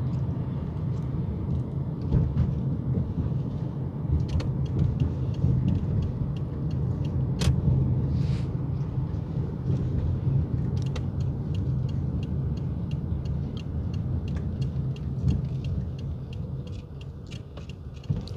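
A street-washing truck rolls along a residential road with a steady low rumble and a wash of water hiss that swells and fades over many seconds, heard from the roadside.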